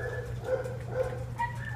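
A beagle at an animal shelter whimpers in short, thin repeated whines over a low background hum, close by and fairly soft.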